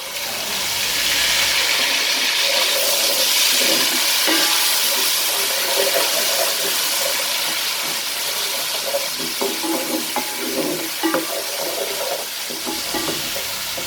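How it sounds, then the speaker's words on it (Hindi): Garlic-ginger paste frying in hot oil with cumin seeds crackling, a steady loud sizzle with sharp pops and spatters near the pan, easing slightly toward the end. "थोड़ा सा ज़ीरा जैसे चटक जाएगा तो ये जो हमारा लहसुन अदरक का पेस्ट है ये शामिल करना है"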